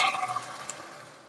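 Water poured from a measuring cup into a cooking pan holding Maggi noodles and vegetables, a short splashing gush that fades within about a second.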